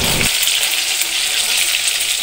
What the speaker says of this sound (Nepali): ल साथीहरू यसरी फ्राई गर्न थालियो है।